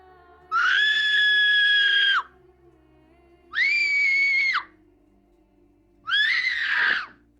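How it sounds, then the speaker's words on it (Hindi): A girl screams three times from a nearby cave, long high-pitched shrieks separated by pauses, loud and close over a faint low hum. "करीबी गार से एक लड़की की चीख सुनाई दी।"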